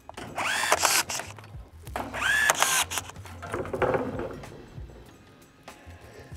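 A Makita DTR180 18 V cordless rebar tying tool binds 22 mm rebar with 6 mm steel wire in a few short, close, whirring bursts, each winding and twisting the wire before stopping. Between bursts come quieter clicks and handling noise.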